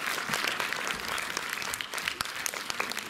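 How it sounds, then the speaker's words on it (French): Audience applause for performers before a film screening, a dense, steady clapping from a crowd indoors, loud and continuous for the whole stretch with no talk over it. "oui, vous pouvez les applaudir, ça se fait, bien sûr."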